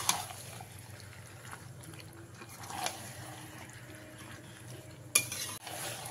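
Dry chilli chicken being stirred and mixed in a pan, with soft scraping and light sizzling throughout, a couple of sharper utensil knocks against the pan standing out.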